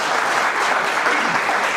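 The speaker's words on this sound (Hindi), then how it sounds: "और ज़्यादा ताली से, बहुत तालियां हैं" An audience at a panel discussion on direct selling applauds, a brief, even burst of many hands clapping at once, steady and fairly close throughout.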